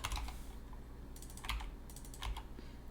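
A computer keyboard clicks in a few short clusters as a number is typed in, quiet and close, with brief gaps between the bursts of keystrokes.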